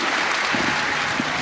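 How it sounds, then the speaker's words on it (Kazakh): Audience applause at the republic final of the Kazakh Khanshaiymy 2011 pageant, a steady dense wash of clapping through the whole moment with no clear voices on top. "Қыздар шапалақ қайда?"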